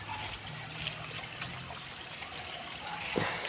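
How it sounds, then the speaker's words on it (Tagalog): Spring water trickles steadily through a hose feeding a drinking-water tank outdoors, a soft continuous flow with a brief faint splash near the end. "Lalagyan ko ng hose para maipon yung tubig"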